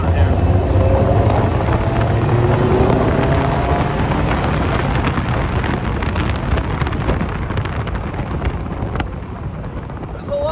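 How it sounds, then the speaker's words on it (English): Heavy wind noise buffets the microphone while driving an open Polaris Slingshot, a loud continuous roaring rush with engine drone underneath, steady throughout. "There's a lot of wind."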